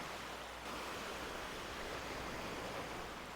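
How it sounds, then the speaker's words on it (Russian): A small river flowing into the sea at Maenam beach makes a steady, broadband rush of water blending with surf. It is continuous and fairly loud, with no voices. "Вот еще одна речушка, которая впадает в море, как видите."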